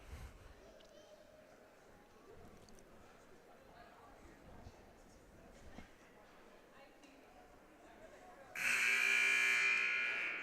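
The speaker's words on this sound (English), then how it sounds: "And there's the first alarm for the timeout ending." A timeout buzzer sounds in a gym during a women's junior varsity college basketball game, a loud sustained electronic blare arriving after quiet crowd murmur and continuing to the end.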